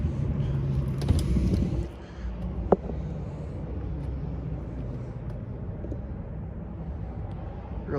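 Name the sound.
1970 Volkswagen Beetle 1600cc engine starting and idling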